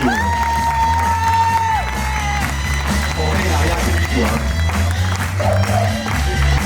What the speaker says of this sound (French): On peut applaudir bien fort notre caméraman de ce spectacle, Kenny